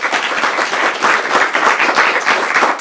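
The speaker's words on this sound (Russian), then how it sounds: "На очереди аплодисменты." A studio audience applauding at a Russian interview show, a dense steady burst of clapping, loud and close, with no talk over it.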